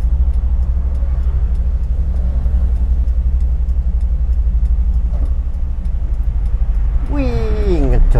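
Toyota Kijang Super car engine, without a sub vacuum, with Delco ignition, running with a steady loud low rumble while accelerating on a test drive, a voice-like rising sound appearing near the end.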